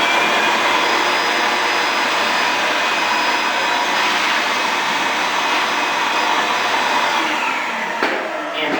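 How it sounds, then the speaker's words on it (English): A vacuum cleaner whines steadily and loudly throughout as it cleans sanding dust off the top of a chair rail, with a brief change in pitch near the end as it is moved. "I'm just going to give the top of this chair rail a vacuum here."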